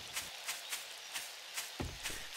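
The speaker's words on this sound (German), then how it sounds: "Der Hirsch läuft weg, der Dumme." Hoofbeats of a deer fleeing in 7 Days to Die, six or seven soft, regular thuds at a quick running pace, close and moderately loud over a faint rainy backdrop.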